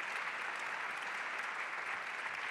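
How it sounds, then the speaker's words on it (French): Audience at a French conference panel on reforestation applauding, a steady dense clapping sustained for a few seconds without a break. "Vous pouvez l'applaudir."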